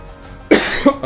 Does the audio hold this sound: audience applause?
no